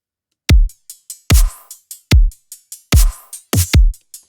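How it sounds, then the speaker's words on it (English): Drum samples play a steady four-on-the-floor kick pattern, punchy deep kicks landing evenly about every 0.8 seconds with lighter percussive hits between them, close and dry with no other sound. "here's just some random pattern, you know, standard 4 on the floor kick thing"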